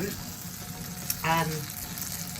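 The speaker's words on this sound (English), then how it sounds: "just literally pan fry them off in a bit of butter, black pepper and garlic" Asparagus, carrots and broccoli pan frying in butter with black pepper and garlic, a steady close sizzle throughout with a brief louder hiss partway, and no talk.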